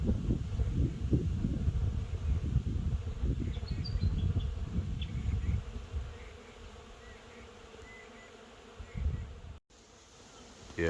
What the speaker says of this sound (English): There's a phenomenal amount of bees on the tree there and the tree above us.